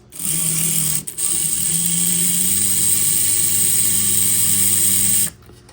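Front motor of a model railroad locomotive running on the bench, a close, steady buzzing whir with a high whine, briefly dipping about a second in and then running on before stopping.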